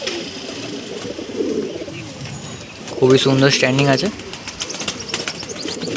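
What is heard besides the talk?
pigeons cooing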